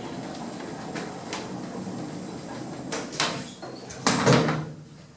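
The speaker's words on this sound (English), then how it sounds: "Doors closing." Hospital lift doors sliding shut with rumbling mechanical movement, a few clunks and a final louder thud as they close, heard close up with no talk.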